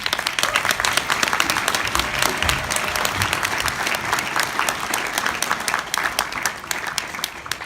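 Steady, dense applause from a crowd at an event announcing a New Freedom Ride for mental health care, loud and continuous clapping with little voice over it.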